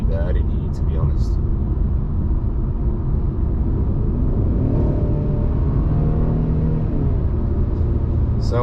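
Steady low road rumble inside a moving 2020 Mercedes-Benz C300, fairly quiet and constant, with a few faint higher tones now and then.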